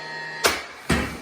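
DeWalt 18-gauge brad nailer firing 1.5-inch nails, with two sharp, loud pneumatic cracks about half a second apart and a third starting at the end, over a faint steady hum.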